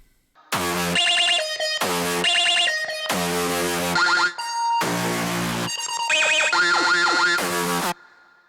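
Three layered dubstep synth sounds built in Logic Pro X play together as loud, bright, high-pitched bursts with heavy pitch modulation, starting and stopping in a choppy rhythm with no bass underneath.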